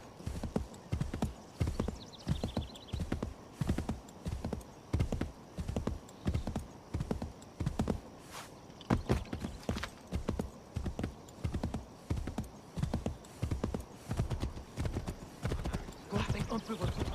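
Horse hooves clip-clop steadily past in Assassin's Creed 3, a regular rhythmic trot of hoofbeats with a brief whinny, close and prominent throughout.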